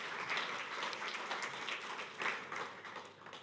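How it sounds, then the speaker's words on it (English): Audience applause welcoming a speaker to the stage at a morning church talk, a steady wash of many hands clapping that holds at an even level for a few seconds with no voices over it. "please give Adrian Holloway a big round of applause"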